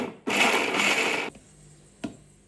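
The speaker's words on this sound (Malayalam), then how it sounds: "ചെറിയുള്ളിയും പച്ചമുളകും കൂടി ഇട്ടിട്ട് മിക്സിയുടെ ജാറിലിട്ടൊന്ന് ക്രഷ്" Electric mixer grinder jar crushing coconut, shallots and green chillies in a home kitchen, one loud steady grinding burst of about a second that stops abruptly, followed by a short knock.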